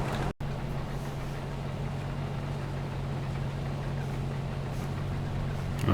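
Steady low engine drone of a tractor pulling a trailer in Farming Simulator 22, a constant hum with a brief dropout near the start and no talking.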